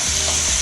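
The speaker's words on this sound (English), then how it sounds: "And we're just gonna cook this until the meat is brown." Ground meat sizzles loudly and steadily in hot oil with peppercorns, garlic and ginger, a close, continuous frying hiss for mapo tofu.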